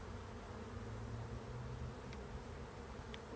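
A dense, steady hum of many honeybees buzzing around an open hive during an inspection, continuous and low, with no talking.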